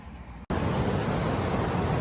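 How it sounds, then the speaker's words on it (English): Small roadside waterfall pouring into a little lake beside a hotel, a steady full-band rush of falling water that starts abruptly after a brief quieter moment and stays loud and close. "Cool waterfall."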